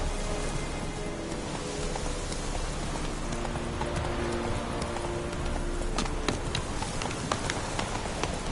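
Horse hooves clip-clop steadily in The Witcher 3 as Roach is ridden, with a continuous rhythmic trot under a dense wash of rain-like ambient noise.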